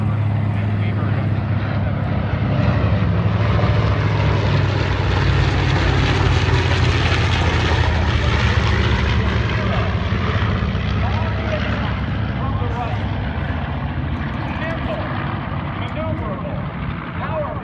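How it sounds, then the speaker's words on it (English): A real Japanese Mitsubishi A6M Zero fighter flying at the EAA AirVenture Oshkosh airshow gives a steady, loud propeller drone with a low engine rumble, continuous throughout, while a commentator talks over it. "Another fighter with that group is a real Japanese Mitsubishi A6M0, not a replica."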